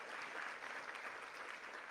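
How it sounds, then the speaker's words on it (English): Audience applause for a panel at a Houston event, a steady wash of clapping from a crowd held at a moderate level for the whole stretch, with no pauses. "One more round of applause for an amazing panel."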